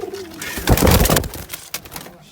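Pet tumbler pigeons coo in a short, close sequence, a soft warbling call with a throaty swell in the middle, with faint rustling around it.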